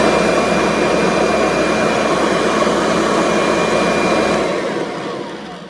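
A 2014 Kirby Sentria II vacuum cleaner, worn from heavy carpet shampooing, runs with a loud, steady whine and roar that holds constant before tapering off at the very end.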